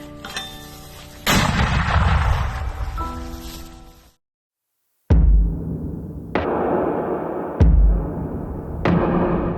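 Heavy artillery fires in a series of loud booming blasts, each followed by rumbling echoes, with a brief silence between shots.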